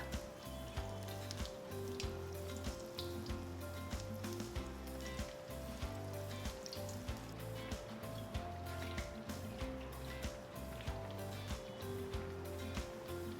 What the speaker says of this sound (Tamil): நம்ம எடுத்து வச்சுருக்கிற வாழைக்காயை பொறுமையாக உள்ளே போட்டு இதில் ஃப்ரை பண்ணுங்கள்